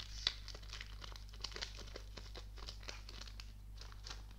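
Crinkling foil wrapper of a Modern Masters 2017 Magic: The Gathering booster pack being torn open, a steady run of close, soft crackles and rustles with a few sharper snaps, no talking.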